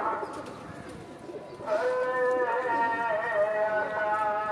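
Pigeons cooing inside a cage, one bird sitting on eggs, with a steady low warbling coo rising and holding after a softer start, close and continuous.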